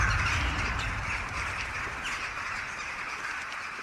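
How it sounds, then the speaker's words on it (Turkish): Crows cawing outdoors, harsh calls and squawks rising over a steady broadband wash of background noise, fairly near and continuous. "Kargalar."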